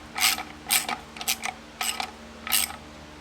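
Ratchet wrench turning a bolt on a crank, a series of short metallic clicking bursts in an uneven rhythm, close and fairly quiet.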